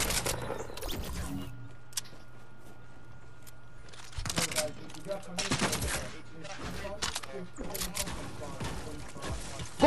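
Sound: gunfire in a video game

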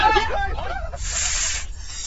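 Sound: snake hissing

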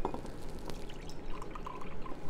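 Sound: water being poured into a jar to mix with alcohol

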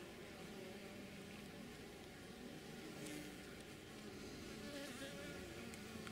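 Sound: honey bees buzzing in hive

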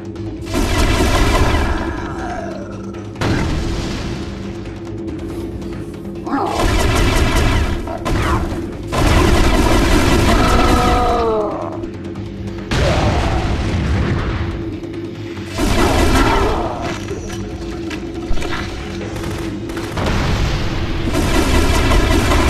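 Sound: gunfire in the video game The Conduit

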